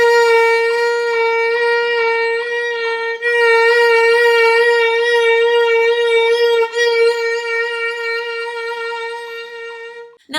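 A violin holds long bowed tones with quick, regular pitch pulsing, a vibrato drill set to a metronome at 140 beats per minute, heard up close and solo with short pauses between bow strokes.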